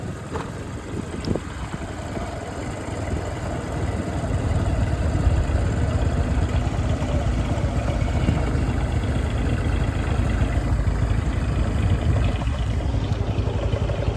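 A farm tractor engine runs steadily at low revs in a field, a deep continuous rumble that grows noticeably louder after a few seconds and then holds at a constant level, with no voices.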